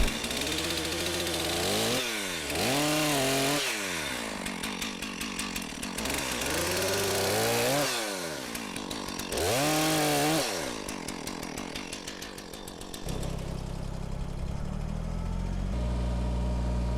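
Split-Fire 4003 wood chipper with a Kubota engine chipping a tree into a trailer, loud engine roaring and repeatedly bogging down then revving back up as branches feed through, grinding and chattering, ending in a steady idle.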